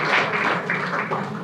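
Audience applause at a quiz session held at a Buddhist vihara in Nagpur, a steady, dense wash of clapping from many hands that carries at an even level for the full moment with no talk over it.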